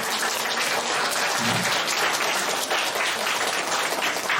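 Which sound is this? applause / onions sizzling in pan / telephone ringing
applause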